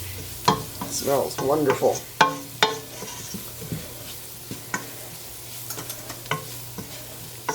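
Cinnamon and cloves are stirred into a hot pan, with a low sizzle and repeated scraping strokes close by, and a short burst of speech near the start.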